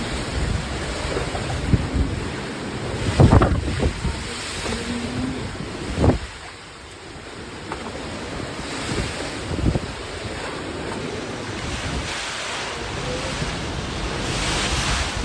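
Typhoon floodwater and a river surging like the sea beside a house, a loud, continuous rushing and churning of water under heavy wind buffeting on the microphone.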